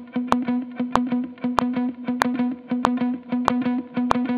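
Distorted electric guitar repeating a steady 16th-note pattern with the third 16th note of each group left out, giving a regular stuttering pulse of sharp muted picks, loud and close with no talking.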